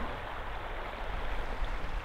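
Steady rushing flow of the small East Gallatin River in Bozeman, Montana, a creek-sized stream, heard close and continuous with no voices.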